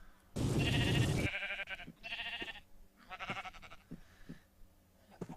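A sheep bleats loudly and closely in the Mage Quest game, one long harsh cry followed by several shorter wavering bleats and soft thuds.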